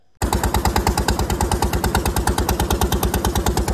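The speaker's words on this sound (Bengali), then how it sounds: "আর তার মাঝখানে যাচ্ছে কিন্তু আমাদের বোটটা" A motor boat engine runs steadily as the boat travels along a river lined with dense mangrove-like trees near Lalganj, a loud, close, rapid puttering beat with no talking.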